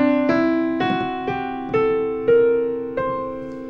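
Six notes of a C acoustic scale (Lydian b7), struck one after another at an even pace, each ringing on so the tones stack into a sustained, rich chord, loud and clear with no voices.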